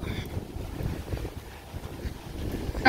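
Wind buffets the microphone on a street at Historic Constitution Square, a steady low rumbling roar with gusty swells that rises in a final gust near the end, with no speech.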